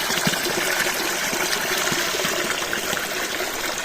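Clean spring water in the Kharkiv region pouring and trickling steadily where people fill containers, a continuous close splashing rush with no voices.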